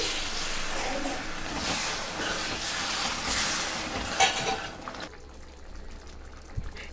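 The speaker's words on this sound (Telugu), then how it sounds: "1/2 గ్లాస్ వాటర్ పోసుకోండి." Half a glass of water is poured into a simmering puri curry of onion and spices, giving a loud, steady splashing hiss for about five seconds before it cuts off, leaving quieter background.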